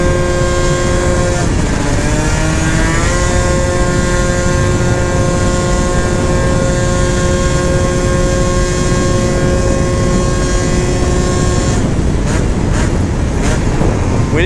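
A Honda Elite AF16 scooter fitted with a smart carb revs up and rides along, its engine note rising, then holding a loud steady drone, with a brief shift near the end.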